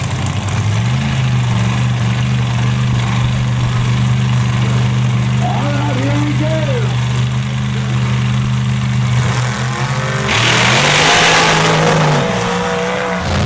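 A full-body drag truck and a rear-engine dragster race down the strip at a Mississippi night event, loud sustained engine drones holding steady before a burst of roaring acceleration near the end, with an announcer talking over them.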